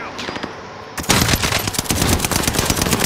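Rapid automatic gunfire from Call of Duty Warzone gameplay: a quieter first second, then dense, loud bursts of shots that run continuously to the end.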